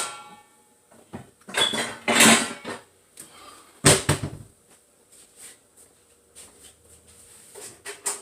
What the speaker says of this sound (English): Then I got to get my pot that I'm going to put it in